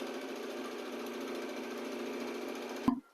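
A Usha sewing machine stitches a saree fall, running as a steady, close, continuous mechanical whir with a fast rhythmic pulse that stops abruptly with a brief clunk near the end, without any speech.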